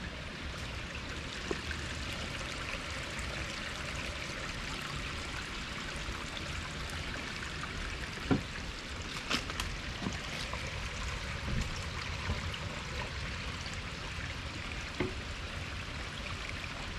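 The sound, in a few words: water flowing from a spring in a city park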